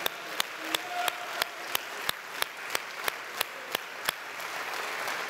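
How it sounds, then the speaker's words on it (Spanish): A church congregation gives a soft wash of applause, with one louder clapper keeping a steady, regular beat close by throughout. "Den un aplauso al Señor por eso"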